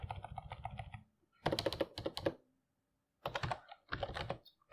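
Typing text on a computer keyboard, bursts of quick close key clicks separated by short pauses, with no voices.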